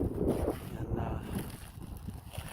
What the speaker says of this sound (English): There's plenty of wind here.